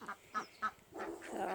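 Swedish blue and Muscovy ducks give a few short, soft quacks and grunts in quick succession, fairly faint, with no talking over them.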